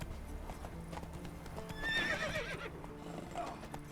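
Roach, the horse in The Witcher 3, trotting with quick clip-clopping hooves and letting out a clear whinny midway, close and distinct.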